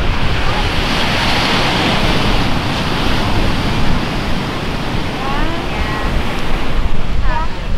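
Ocean surf at a beach washes in a steady, loud roar with a windy hiss over the microphone, continuous throughout with no distinct breaks.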